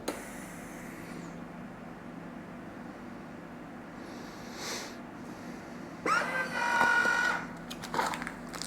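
A vacuum sealer seals a pack of ground venison burger with a steady, close motor hum, joined near the end by a louder burst of hissing, whirring noise.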